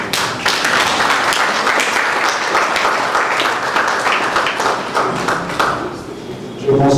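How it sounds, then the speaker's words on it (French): A crowd applauds steadily for several seconds, a dense wash of clapping hands that tapers briefly near the end before swelling again. "Je pensais qu'on allait mieux applaudir."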